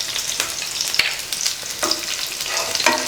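Onion and garlic sauté in a pan for peanut chutney, a steady close sizzle broken by a few light stirring scrapes, with no talking.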